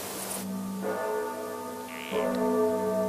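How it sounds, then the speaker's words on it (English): A sustained bell tone with rich, ringing overtones, struck again partway through, resonating steadily. "You hear the clear ringing of my church bell?"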